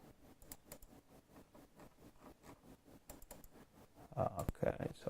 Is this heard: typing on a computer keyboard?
yes